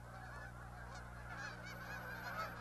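Migrating geese honk at Blackwater National Wildlife Refuge in Maryland, where they gather on spilled corn; it is a continuous, fairly faint chorus of overlapping calls from a large flock.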